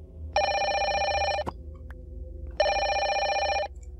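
A telephone rings twice inside a Minecraft game, each bright electronic bell burst lasting about a second, separated by a short quiet gap, loud and close with no talk over it.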